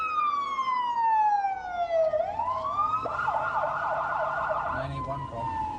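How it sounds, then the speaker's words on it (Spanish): An ambulance siren wails close by, sweeping down in pitch, then switching to a rapid warbling yelp before fading, with faint traffic noise underneath. "En ese momento me encontré instalado en una ambulancia."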